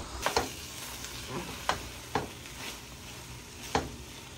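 Bombay duck fish jhuri fries dry in a pan, a soft continuous sizzle broken by a few sharp scraping stirs of the spatula, close and fairly quiet.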